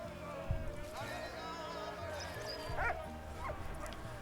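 A dog in the World War I video game Valiant Hearts: The Great War gives several short yips and barks, with a whimper, over a soft game music bed at low volume.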